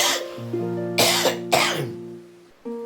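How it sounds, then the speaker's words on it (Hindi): A man coughs in two sharp, loud bursts over a steady background hum, with a brief throat-clearing catch at the end. "ये खांसी ठीक नहीं हो रही मेरी"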